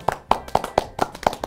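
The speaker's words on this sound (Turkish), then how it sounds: "Birinci elenecek diye alkışlıyorum." Seven sharp hand claps at a steady, even pace, close and fairly loud, with no voices over them.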